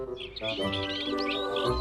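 Little cartoon birds chirp and tweet in a quick, bright flurry, moderately loud and close, with soft sounds underneath.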